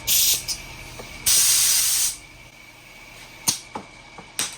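3M paint spray gun laying down base coat: sharp, loud hissing bursts, one short and one sustained for under a second, followed by a few quick spits of spray against a quiet background.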